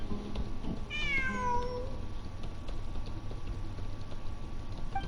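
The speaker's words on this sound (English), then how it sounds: "I'm not hearing things. It really is a cat." A single drawn-out cat meow in the video game Genshin Impact, clear over a steady background of ambient game noise, followed by only the continuing ambience.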